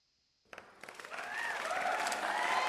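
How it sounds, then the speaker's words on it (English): A canned applause sound effect plays on a magic livestream, starting after a brief silence with a few scattered claps that swell into steady, full crowd clapping and cheering. "Let me do the applause again."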